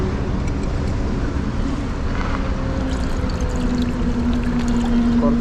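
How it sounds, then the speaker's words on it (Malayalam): Water pours steadily into a container to rinse out dust, a continuous rushing splash that stays loud and even throughout, with no one speaking. "കുറച്ച് വെള്ളം ഒഴിച്ചു"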